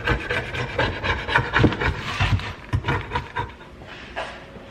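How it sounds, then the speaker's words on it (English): Old gasket material being scraped off a timing chain cover on a drift car engine, a close, steady run of dry rasping and rubbing strokes that fades slightly toward the end. "I'm just going to get all the old gasket material off of this."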